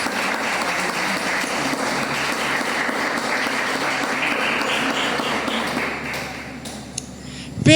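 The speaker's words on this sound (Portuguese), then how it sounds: "Aplauda aí a Jesus." A congregation at a church service applauds in a sustained, even wash of clapping that holds steady for several seconds before thinning out, with a few sharper taps and a thump at the end.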